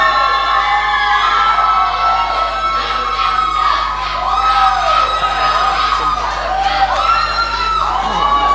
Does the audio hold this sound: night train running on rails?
no